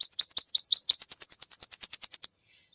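Tennessee warbler song played from a phone bird app: a rapid series of high, bright chirps that speeds up toward the end, about twenty notes over two seconds, clear and loud with no talking.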